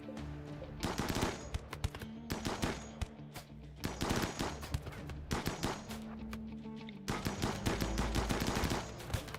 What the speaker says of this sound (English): Stop shooting him. Stop shooting Jay.